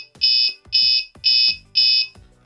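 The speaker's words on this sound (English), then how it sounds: "then it will provide a buzzer beep and the LED indication like this." Four evenly spaced electronic buzzer beeps from an alcohol detector, each about a third of a second, loud, close and shrill, with faint clicks between.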